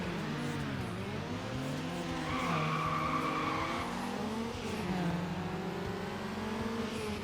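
Race car in the Need for Speed Underground video game skidding and sliding through turns, with a sustained tire squeal over a continuous revving engine drone that rises and falls, loud and without talk.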